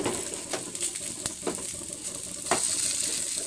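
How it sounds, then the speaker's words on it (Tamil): Rice-flour batter made from ration rice being stirred in a pan over low heat, with a soft steady sizzle and occasional spoon scrapes and taps against the pan. "அந்த மாவை எடுத்து இதில் போட்டு நல்லா மிக்ஸ் பண்ணிக்கணும்"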